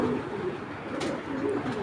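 A jet-black racing pigeon from a BRPL club member coos in soft, low, repeated phrases, close by and steady with no talking.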